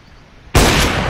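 A sniper rifle shot in the video game Counter-Strike: Global Offensive cracks out suddenly and loudly after a brief quiet moment, then its sharp report rings on.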